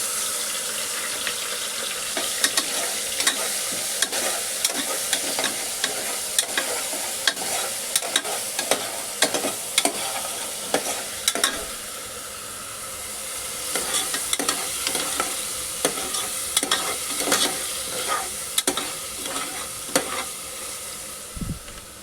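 Ginger-garlic paste and tomato sautéing in a pan sizzle steadily and loudly, with frequent spoon scrapes and clinks of stirring scattered throughout and no talking.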